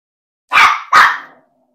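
A small dog gives two sharp, loud barks in quick succession close by, then silence; no one talks.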